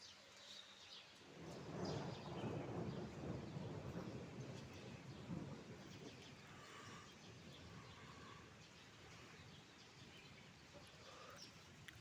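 Thunder rumbles long and deep during a heavy thunderstorm in Mersin, rising then rolling steadily over rain, with faint bird chirps in the background.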